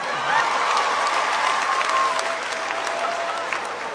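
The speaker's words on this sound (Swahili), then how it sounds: "Makofi kwa bibi jamani." A comedy show audience breaks into loud applause and cheering, dense clapping that swells then eases slightly over four seconds, with faint crowd voices mixed in.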